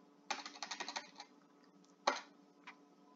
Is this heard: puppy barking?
no